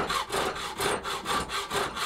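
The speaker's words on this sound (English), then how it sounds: "I'm just going to cut that down to size" Metal is hand-sawn down to size for a small-shed cyclekart nosecone: a steady run of about eight back-and-forth strokes, close and loud, with no voices.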